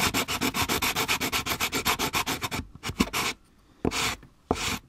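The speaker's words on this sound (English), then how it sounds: "So I've got my sanding block here." Rough sanding block rubbed against the interior of a 1/24 scale slot car body, a fast run of close, rhythmic scratchy strokes followed by a few slower, isolated passes with brief pauses.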